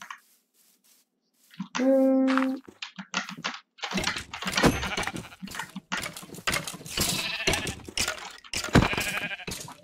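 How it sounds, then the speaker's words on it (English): A sheep bleats once in Minecraft, a short clear harmonic cry, followed by busy game sounds of footsteps and rustling. "Okay, I got some sheep."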